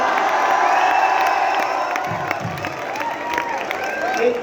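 Audience at a poetry recital at NIT Jalandhar cheering and clapping in a dense, steady crowd roar, with whoops and scattered shouts rising over the noise.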